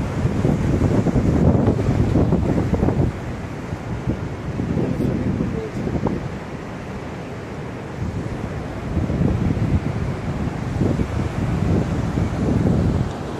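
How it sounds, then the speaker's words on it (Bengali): Ocean waves roar on a Bali beach under an overcast sky, a loud, continuous wash with surges rising and falling, muddied by heavy wind rumble on the microphone. "সমুদ্র গর্জন শুনতে পাচ্ছি।"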